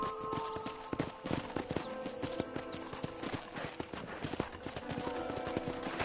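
Horse hooves clip-clop at a walking pace across a ranch in a PS4 video game, a fairly quick, even rhythm of close, crisp hoof strikes over a faint steady backdrop.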